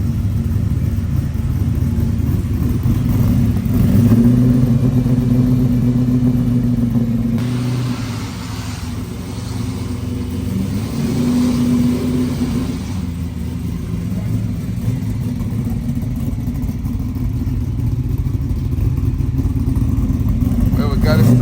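A 1970 Chevrolet Chevelle LS6 engine runs with a loud, deep, continuous rumble that swells with several revs before settling into a rough idle, with a voice heard over it.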